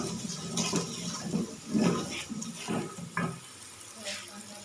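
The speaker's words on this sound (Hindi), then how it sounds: "थोड़ा सा पानी शामिल करेंगे ताकि हमारे मसाले हैं जल ना जाए" Water is poured into a pan of sizzling whole cumin and spices, giving several splashy hissing bursts that rise and fall, with a loud surge near the middle, and a voice talks softly underneath.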